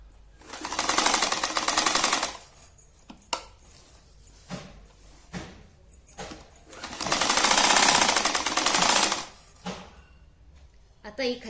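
A sewing machine stitching the bottom edge of a sari, running in two longer bursts of rapid mechanical whirring with short clicks and handling knocks between them.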